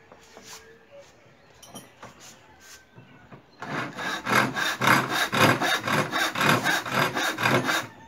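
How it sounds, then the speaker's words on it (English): Hand saw cutting wood for an end lap joint in a bench vise, a few faint tentative strokes and then a steady run of loud, rhythmic rasping back-and-forth strokes close by. "You angle the saw like this because you want to come down to make sure that you come down to this line."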